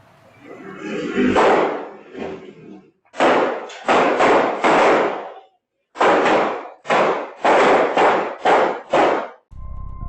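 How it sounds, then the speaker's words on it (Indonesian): A rapid series of sharp, loud bangs in several bursts from an exchange of gunfire between police and armed rebels, recorded on CCTV, with short gaps between clusters. "Video CCTV ini merekam jelas suara baku tembak"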